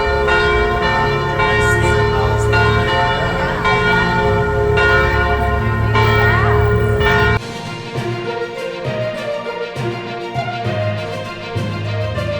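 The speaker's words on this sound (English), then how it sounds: "Listen to those beautiful bells." Church bells of the Church of the Annunciation in Israel ring out loudly and continuously, overlapping tolls with rich ringing overtones, a heavier peal giving way to lighter, sparser strikes.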